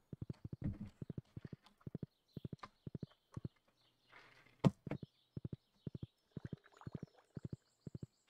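A horse ridden in the Stardew Valley video game clip-clops in quick, evenly spaced pairs of crisp hoof taps, close and clear, with a few soft rustles and game effects between them.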